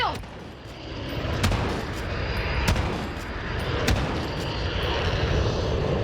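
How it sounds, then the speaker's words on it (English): In a Call of Duty match, a Harrier jet roars overhead with a steady engine drone while sharp gunfire cracks punctuate it at intervals, all heard as a continuous game soundscape without talk. "that's the Harrier shooting at me"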